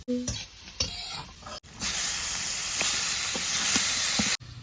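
Onions frying in a pan at an outdoor rainy-day picnic cook-out, a loud steady sizzle and hiss after a few clanks and taps, with scattered clicks on top.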